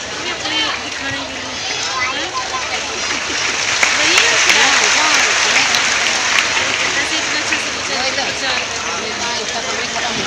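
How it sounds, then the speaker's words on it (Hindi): A crowd at a Shrimad Bhagavat Katha in Mhow, Dr. Ambedkar Nagar, Indore, claps continuously to welcome guests, dense and steady with no break. "देखिए तालियां रुकनी नहीं चाहिए"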